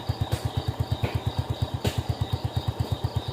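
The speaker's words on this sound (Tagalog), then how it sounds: "murag nainit na ni ang makina" An engine idles while warming up before setting off, putting out a steady, rapid low putter of even pulses close by, with a faint background hiss and no talking.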